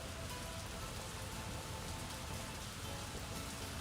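Rain falls steadily as a continuous even hiss in the Workers and Resources city-building game, with no other distinct sounds.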